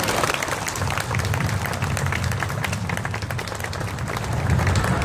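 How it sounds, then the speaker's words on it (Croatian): An audience at a White Ribbon Day gathering in Chicago breaks into applause. A steady wash of clapping holds for the full stretch at moderate level and swells slightly toward the end. "Ovo zaslužuje aplauz sviju nas ovdje."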